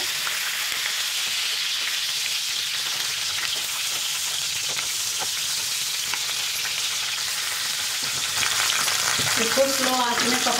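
Stuffed eggplant (bharwa baigan) cooks slowly over low flame in a pan, giving a steady hissing fry throughout with faint occasional ticks, growing slightly louder near the end with a brief scrape, no voices.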